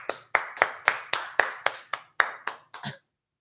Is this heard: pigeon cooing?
no